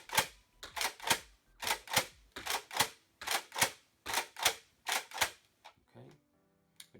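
Alpha Trooper toy blaster slam firing darts in a fast, steady series of about fifteen sharp mechanical clacks, each with a quick pumping rattle, close and loud before trailing off into a few softer clicks.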